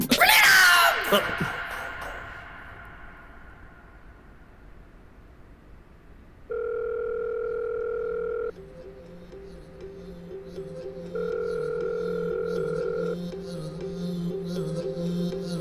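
A phone call's ringback tone, two long steady tone bursts separated by a pause, heard after a brief burst of loud voices at the start and faint background noise between.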